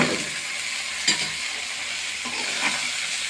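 Washed rice frying with spices in a pan for rice pulao, a steady sizzle with a few brief scraping stirs, close and alone.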